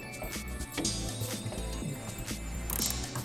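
Ratchet clicking in quick bursts while a coilover bolt is tightened on a Mazda Miata, close and mechanical, with a steady low rumble underneath and no talk.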